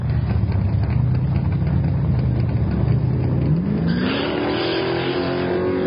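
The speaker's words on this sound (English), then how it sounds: "Here comes the big white Cadillac." A big white Cadillac drag racing car launches down the strip at a hot rod drag event in Tulsa, Oklahoma, with a loud sustained engine roar that climbs in pitch as it accelerates away.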